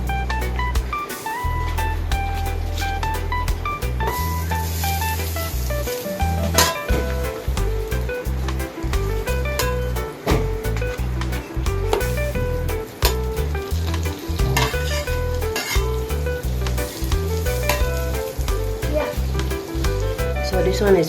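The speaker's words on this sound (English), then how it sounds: "I'm going to heat the butter first." Butter heating in a frying pan for bread and egg toast, a steady close sizzle running throughout with occasional clinks of utensils against the pan, and light talking over it.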